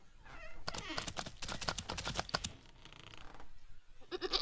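A goat bleats in the video game Wytchwood, a wavering, nasal cry lasting a couple of seconds over a faint background, followed by a short burst of another sound near the end.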